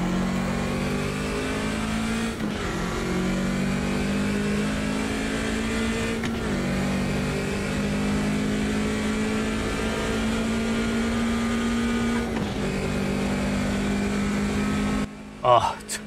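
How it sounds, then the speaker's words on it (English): A BMW 2002 with a raspy straight-four engine in the Automobilista 2 racing game drones and revs steadily and loudly, pitch dipping briefly at a few gear changes before cutting off near the end. "give you a little sample of the sound of this little raspy straight four"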